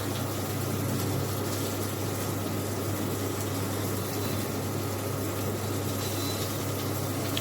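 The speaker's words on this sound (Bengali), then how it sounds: "জলটাও ফুটতে শুরু করেছে। এবার পাতাগুলো আমি এর মধ্যে ছেড়ে দিচ্ছি।" Salted water boiling in a pot with cauliflower leaves just dropped in: a steady low bubbling and rumbling churn, constant and moderately quiet.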